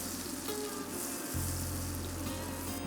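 A big batch of onions sizzles steadily in a Heston pan over low to medium heat, a continuous close frying hiss with a low hum beneath, briefly dipping before resuming.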